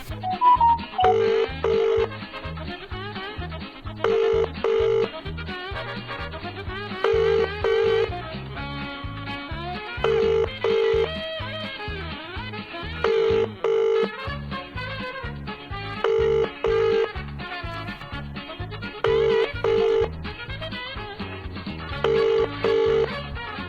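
A telephone being dialed and ringing indoors, with short bursts of keypad tones alternating with repeated ring pulses in a regular on-off rhythm, loud and close.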